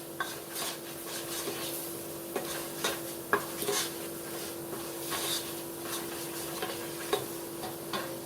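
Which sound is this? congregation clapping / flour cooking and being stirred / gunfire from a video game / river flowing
flour cooking and being stirred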